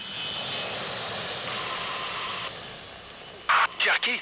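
A jet aircraft flying at full throttle gives a constant loud roar. Near the end it is briefly broken by short, crackly radio-like voice bursts.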